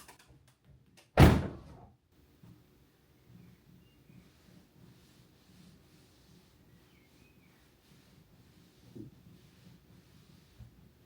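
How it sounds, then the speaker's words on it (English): The door of a Ferrari 488 Spider swings shut with one solid, close thunk, followed by quiet interior rustling and a faint softer knock later. "close the door"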